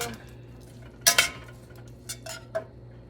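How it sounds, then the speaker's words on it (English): Diced onions being stirred into a pan of drained ground beef with a utensil, a few sharp clinks and scrapes against the pan amid quiet background. "we're going to add some diced onions. Stir this in."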